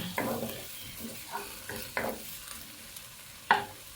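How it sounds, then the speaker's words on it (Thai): Shallots being stir-fried in a pan, heard as a few separate scraping strokes of a spatula over a faint sizzle, quiet and near, ending with one sharper knock against the pan. "เราก็ผัดหอมนะคะ ผัด ให้เหลืองๆนิดๆนนะคะก็พอแล้วแหละ"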